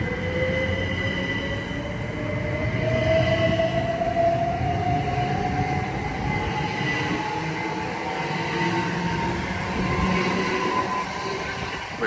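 A Great Western Railway electric train of class 387 units pulls away from the platform at Didcot Parkway, a steady loud rumble and whine with a slowly rising motor tone and faint wheel squeal, continuous throughout.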